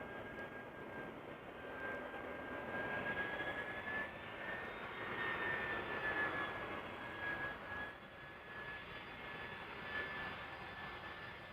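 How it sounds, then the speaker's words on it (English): An EasyJet Airbus A319 jet arriving at Amsterdam Schiphol Airport roars steadily at a distance, its engine whine swelling slightly mid-pass and then holding, with no talk. "Over here we have EasyJet. Flight 22511. A319 arriving from London Luton."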